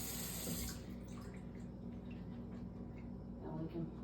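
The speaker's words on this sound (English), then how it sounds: "Let's rinse our shell out." Cold tap water runs over a cooked pasta shell in a kitchen sink, a steady near splashing stream with a brief louder gush at the start.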